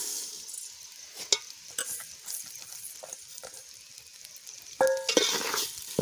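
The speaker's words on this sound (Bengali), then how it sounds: "চালটা এবার একটু ভালো করে ভাজা করে নেব।" Rice frying in a pan with reddened onions for egg biryani crackles softly, with scattered stirring scrapes and a few clanks of the spoon against the metal pan, close and fairly quiet.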